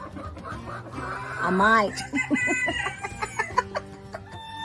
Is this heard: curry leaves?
no